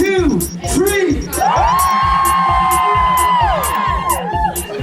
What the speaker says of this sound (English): I want to hear a huge cheer after 3 at the top of your voices.